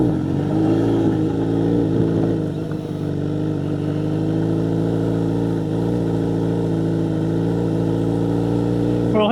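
A Kawasaki Z900RS fitted with a Wirus Win slip-on exhaust and its baffle idles loud and close, holding a steady deep drone for several seconds with a brief dip before settling back.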